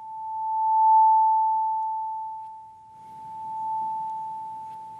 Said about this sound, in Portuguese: Este tem 880 Hz.